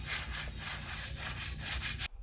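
A dry stocking cap rubbed firmly against a head for a natural quick weave, giving a close, loud, rhythmic scratching and rasping that pulses in steady strokes before stopping abruptly.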